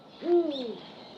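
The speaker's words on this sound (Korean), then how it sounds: "소리는 야행성인 수리부엉이에게 아주 중요한 소통 수단입니다." One short, low hoot from a male Eurasian eagle-owl at dusk, with a bending, swooping tone, heard alone in a quiet setting.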